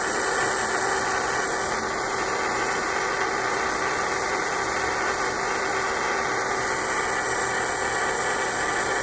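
A hand-made electric motor driven by an Arduino runs with a steady, unbroken buzzing hum and a constant tone, close and moderately loud, with no pauses.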